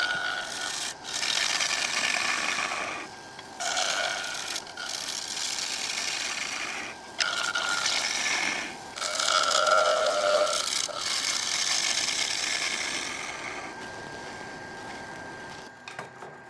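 Wood lathe gouge taking light cuts on a round-bottom bowl, a steady scraping and rubbing roar close by with short breaks between passes.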